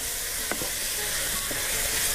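Chicken and garlic fry in a pan with a steady, close sizzle, broken by a few short scraping knocks as the pieces are stirred; no one speaks.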